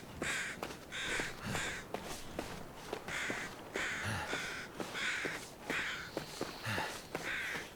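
Crows caw repeatedly in The Long Dark's frozen wilderness, a steady series of harsh calls at moderate distance, mixed with crunching footsteps in snow.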